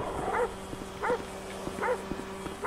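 A dog barks outside a house in a game scene, repeated barks at a steady interval over a constant background hum, fairly faint and not close.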